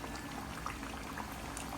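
Coriander kachori frying in hot oil, a steady, close, continuous sizzle and bubbling that holds level throughout without pauses; no one speaks.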